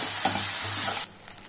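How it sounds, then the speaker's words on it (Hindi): Onion with ginger garlic paste frying on a high flame, a loud steady sizzle with stirring scrapes, close and continuous before dropping off sharply near the end. "अभी मैं इसमें डालूंगी करीब 1/2 टेबलस्पून जिंजर गार्लिक पेस्ट और इसको अच्छे से मिला लेंगे।"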